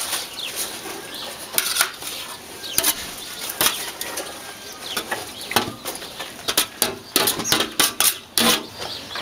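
Rabbit and hare meat being stirred with potatoes and vegetables in a cooking pot on a ranch, a busy run of irregular metallic scrapes and clinks, fairly close, with faint bird sounds in the background.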